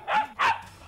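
A dog in a comedy film scene gives two quick, sharp barks close by, followed by a brief quiet tail.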